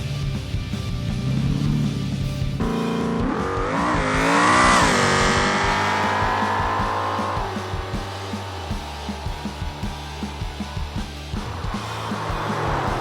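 A Bruckell Bastion drag car in the BeamNG driving game launches down the strip, its engine rising in pitch through the gears to a loud, sustained high-revving scream, then falling away into a rumbling, stuttering idle.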